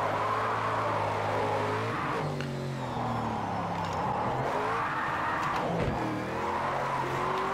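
A Ford Mustang RTR in the video game Project Cars 2 revs loudly and continuously with tires squealing through slides, pitch rising and dropping as the car drifts; no talking.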